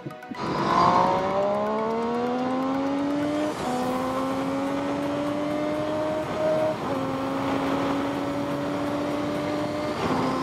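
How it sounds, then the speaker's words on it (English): A Triumph Street Triple motorcycle engine revs and drones steadily, pitch climbing through several gear changes with brief dips between shifts, loud and continuous with wind noise. "I love the exhaust note."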